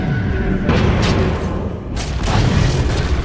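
A tower collapses in the Dota 2 game, heard as a loud, deep booming explosion with rumbling debris, followed by a second heavy blast about a second later.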